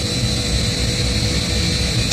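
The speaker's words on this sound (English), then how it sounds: "We are ready for takeoff" A passenger aircraft takes off, heard from inside the cabin as a loud, constant, full-bodied engine roar with no break across the whole stretch.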